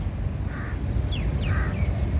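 Crows cawing among many birds in a park in Sharjah, United Arab Emirates, with a few harsh calls standing out over steady low outdoor rumble.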